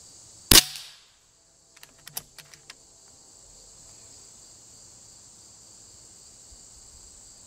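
An Umarex Zelos airgun fires one sharp, loud shot at a target, and a few faint ticks and taps follow as it hits; afterward there is quiet room tone.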